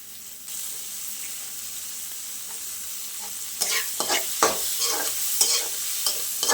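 Onions and curry leaves frying in a pan: a soft sizzle starts, then louder crackling and scraping stirs break in repeatedly, close and uneven, with no talk over it.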